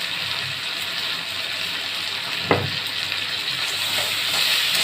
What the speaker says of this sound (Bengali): এবার এইটাকে ভালো করে একটু কষতে হবে।